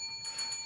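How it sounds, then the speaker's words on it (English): A bell rings with bright, sustained metallic tones in one short, clear strike, heard alone. "Ring that bell."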